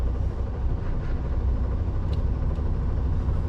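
A McLaren sports car pulls out onto the road near a roundabout, heard as a steady, loud low engine rumble mixed with road noise, fairly close, with no talking.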